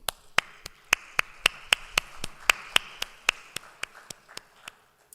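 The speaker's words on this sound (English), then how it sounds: "A special applause to all of them" Steady, evenly spaced single claps at a moot court competition closing ceremony, about four per second, crisp and close against a quiet room.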